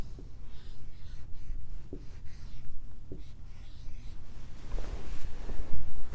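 Marker or chalk scratching across a classroom board as a word is written, a steady series of rubbing strokes with a few sharper taps, close and fairly loud, with no talking.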